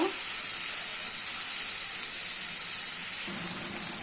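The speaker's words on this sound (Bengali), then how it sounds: "বেশ কিছুক্ষণ ভাজা ভাজা করে নিব।" Onion and garlic sizzle steadily in a pan with dried fish, a constant close frying hiss with no pauses and no voices.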